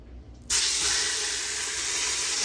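Beef searing in oil in a hot pan, a loud, steady hissing sizzle that bursts in suddenly half a second in and holds constant and close throughout.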